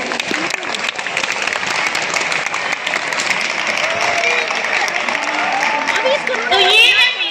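An audience at a school annual function at Maharishi Vidhya Mandir Public School in Kotdwara bursts into loud, sustained applause, a dense wash of clapping from a large crowd, with faint voices and a child's speech mixed in near the end.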